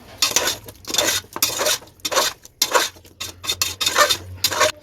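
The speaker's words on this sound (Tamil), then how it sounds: "எல்லாத்தையும் சேர்த்து நல்லா வதக்கி விட்ருவோம்" A spoon scrapes and clatters against a pot while stirring beef masala with yogurt, chili powder and salt for a Hyderabadi beef curry. The strokes come in a quick, irregular rhythm, close and fairly loud, with no talking.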